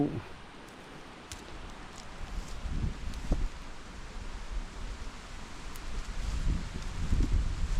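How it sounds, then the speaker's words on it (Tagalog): Wind blows steadily through a field of string bean plants during a harvest, a broad rustling hiss that swells and gusts, with soft leaf rustles and no talk. "Ah, mahangin pare ah."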